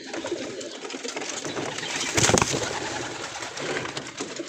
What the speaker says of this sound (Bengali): কবুতর মারামারি করতে করতে আমার উপরে আইসা পড়ছে।